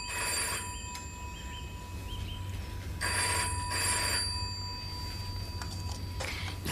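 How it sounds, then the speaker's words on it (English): An old-style telephone bell rings in bursts, repeating several times with short pauses, fairly close in a quiet room with no voices. "You can't just let a phone ring on and on."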